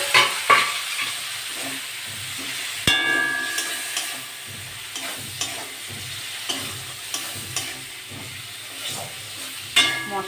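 Chopped large tomato going into spices frying in a pan for a Bengali pomfret curry, giving a sharp hit of sizzle followed by steady frying and stirring with repeated spoon scrapes and clinks against the pan, close and fairly loud, with no talk.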